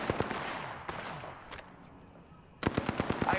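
Automatic gunfire in the shooter game Apex Legends, with fast bursts of rapid shots, a short lull, then another tight, loud volley of repeated cracks near the end.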